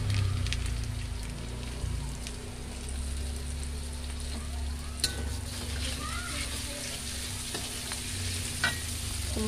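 Instant Bamboe rawon spice paste fries in a pan after fried shallots, with a steady sizzle and occasional scraping stirs throughout, fairly soft and continuous with no talk.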